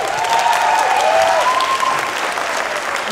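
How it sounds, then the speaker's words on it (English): A theater audience at a Shakespeare monologue and scene contest showcase claps loudly and continuously in a dense, sustained round of applause. "Another huge round of applause."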